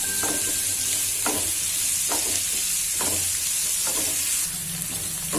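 Sliced okra cooking in hot oil, a loud continuous sizzle and hiss broken by regular scraping stirs of a spoon in the pan every second or so, close up with no talking.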